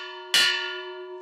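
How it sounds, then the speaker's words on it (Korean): Early-morning bell ringing at a village school in Uganda: a single clear metallic strike that sets off a sustained harmonic tone, slowly fading, heard alone. "이른 아침부터 어김없이 개척의 종이 울리고"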